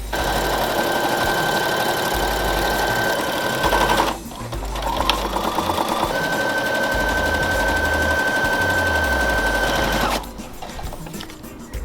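A sewing machine stitches a pro wrestling ring apron in loud, steady continuous runs, pausing briefly near four seconds and stopping again just after ten seconds.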